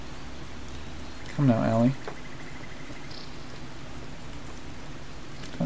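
Steady hiss of a rain storm in the Skyrim video game, a southern storm, runs through the whole stretch while someone speaks briefly over it.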